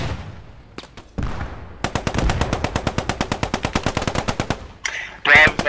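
Bren light machine gun firing in the video game Post Scriptum, a steady rapid burst of about thirty evenly spaced loud shots, preceded by a few scattered single reports.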